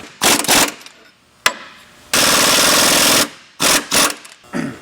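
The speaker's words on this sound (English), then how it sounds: "now we can go ahead and tighten up our idler support mounting bolts" Mounting bolts on an idler support brace kit on a Chevy Duramax being tightened with an impact wrench, several loud close rattling bursts of varying length separated by short pauses, one long steady run in the middle.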